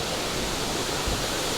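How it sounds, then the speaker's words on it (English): A waterfall pours in a steady, dense broadband roar, loud and continuous, filling the scene evenly without breaks or distinct splashes. "That beautiful waterfall."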